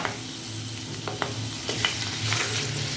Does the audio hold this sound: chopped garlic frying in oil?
yes